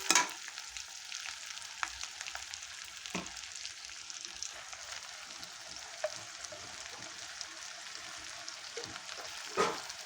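Chicken manchurian frying as red soy sauce is added, heard as a steady broadband sizzle with a few sharper crackles and spoon-against-pan knocks near the start and end, no voices.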